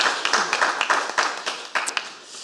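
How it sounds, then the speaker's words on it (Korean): A church congregation gives encouraging applause during a Sunday afternoon worship service, with scattered claps rising and falling over a couple of seconds at a moderate, somewhat distant level. "우리 격려의 박수로 함께"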